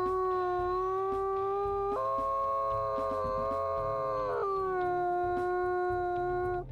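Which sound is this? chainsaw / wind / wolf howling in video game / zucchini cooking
wolf howling in video game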